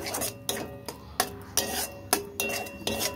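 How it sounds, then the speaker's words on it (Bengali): Potato and cucumber are stirred into fried masala in a pan, a rhythmic series of close scraping rasps and utensil clinks repeating roughly every half second, with no talking. "মশলাটা কষাবার পর আমি শসার আলুটা দিয়ে ভালো করে মিশিয়ে কষিয়ে নিচ্ছি।"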